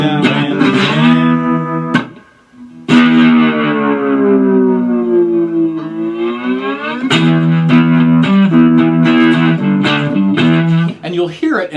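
Slide licks on a three-string cigar box guitar, loud and sustained, with smooth gliding pitch bends and a few sharp plucked attacks and brief gaps, close and distorted.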